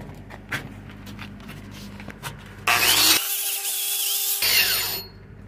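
A power buffer grinds over the start and stop of a 6010/7010 downhill pipe weld, a harsh, loud whirring burst after some quieter handling and scraping noises.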